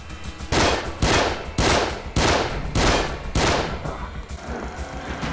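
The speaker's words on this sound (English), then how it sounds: "he's shooting" Enemy gunfire in The Evil Within's The Assignment DLC, during the Joseph boss fight: six loud, evenly spaced shots roughly a second apart, each with a sharp crack and a fading tail, the last ones softer.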